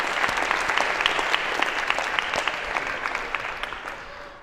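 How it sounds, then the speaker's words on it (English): An audience in a Harvard CS50 computer science lecture hall breaks into applause, a dense, even wash of many hands clapping that holds for several seconds before tapering off. "a round of applause for having so proactively volunteered"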